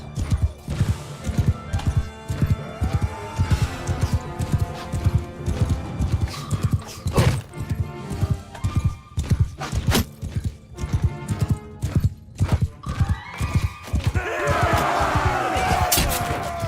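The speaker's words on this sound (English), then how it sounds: "And I get to try out my new horse." Horse hooves gallop steadily in a rapid, even clip-clop rhythm during a medieval battle charge in Mount and Blade Bannerlord, with thuds and crashes of combat breaking in now and then.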